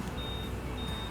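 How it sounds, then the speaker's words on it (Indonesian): Two short, high-pitched answer-back beeps come from a Honda Vario 160 keyless system in quick succession. They are faint against a constant rumbling background, with no voices. "Ini suara pertama bip-bip 2 kali."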